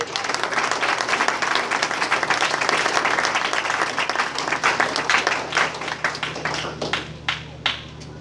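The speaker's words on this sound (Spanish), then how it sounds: "Dale un aplauso al Señor en esta hora." Church congregation applauding during an evangelical wedding service, dense sustained clapping from a full room that thins into scattered claps toward the end.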